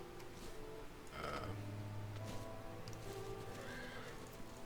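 A horse whinnies once in Final Fantasy XIV: Stormblood with a high, shaky neigh over a faint, steady background hum, followed by a few soft hoof-like clops.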